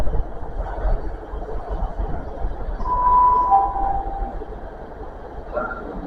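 A train at Totnes station rumbles low and steady nearby, with a sustained tonal squeal or horn-like whine in the middle and faint station ambience around it.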